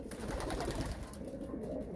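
Breeding pigeons coo softly in a loft after being fed, low throaty murmurs overlapping in a continuous, fairly faint bubbling.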